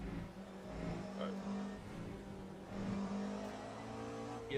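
Porsche race car in Le Mans Ultimate at Spa, its engine droning steadily with a sustained tone and brief rises in pitch, fairly loud and continuous throughout.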